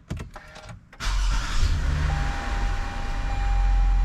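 A 2015 Toyota Sienna minivan is started in a garage before an oil change: brief clicks and whirs, then the engine cranks and catches, settling into a loud, steady idle.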